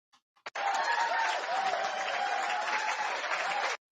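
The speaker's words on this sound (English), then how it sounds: "Can we get a hand clap for 2 black tag teams?" Steady hand-clapping applause from a small group, loud and continuous for about three seconds after a couple of faint taps, with no talking over it.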